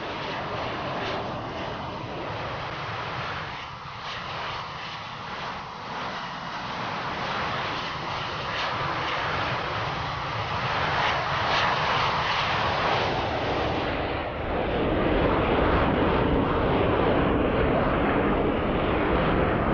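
F/A-18C Hornet jet in the FSX flight simulator game, a loud sustained engine roar that shifts in tone and swells louder in the last few seconds, no speech.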